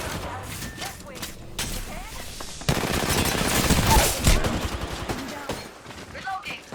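Automatic weapon fire in Apex Legends bursts out in rapid, loud volleys, with a quieter stretch of scattered shots before heavy continuous firing and game voice callouts over it.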